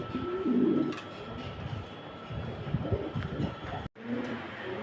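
Pigeons coo softly nearby, low rounded calls repeating in short bursts over a faint background hum, with brief clicks and rustles and one sharp drop-out near the end.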